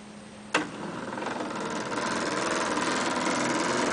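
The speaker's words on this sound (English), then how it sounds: "lever arm goes up and down, as you can see, and that's a result of the threaded rod rotating from the motor." An electric motor on a bucket fork grapple turns a threaded rod to move the lever arm, starting with a sharp click and then a steady buzzing whine that builds slightly and runs on without talk.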